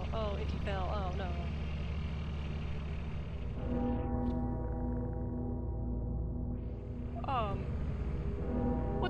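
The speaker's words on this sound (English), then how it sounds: "Why is the bell tolling?" A deep bell tolls in the video game Lethal Company: a steady, droning low tone that sets in partway through and holds to the end, with talking over it throughout.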